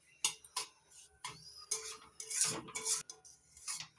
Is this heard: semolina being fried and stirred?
yes